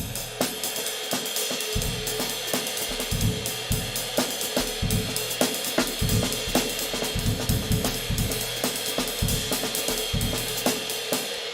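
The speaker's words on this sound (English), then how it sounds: "It's this lovely, fast-flowing, broken time stuff." Busy, fast broken-time jazz drumming at about 236 BPM, with constant cymbal wash and irregular snare and kick accents, played loud and close with no steady backbeat.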